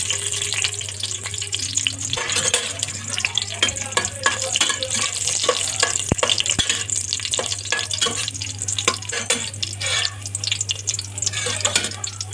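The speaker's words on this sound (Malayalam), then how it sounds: "അതുകൊണ്ട് ഇതൊന്ന് ചൂടായതിനു ശേഷം നമുക്ക് അണ്ടിടാം." Cashew nuts fry in hot oil for Kozhikode biriyani, a steady crackling sizzle close up, broken by frequent clicks and clatters of stirring.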